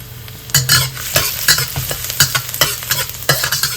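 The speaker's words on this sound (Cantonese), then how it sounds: "放啲蒜蓉起鑊" Minced garlic is stir-fried in a wok for beef fried rice, with a loud close sizzle cut by rapid, repeated scraping strokes of the spatula against the metal in an uneven rhythm, and no speech.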